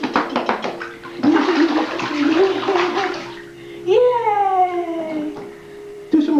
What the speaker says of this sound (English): Splash, splash, splash.